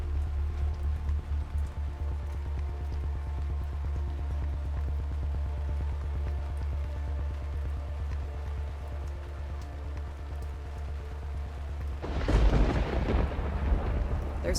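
Steady rain pours in the perpetually wet Cylinder B of the video game Enoch: Children of Fate, with a low rumbling drone throughout and a louder crack of thunder near the end.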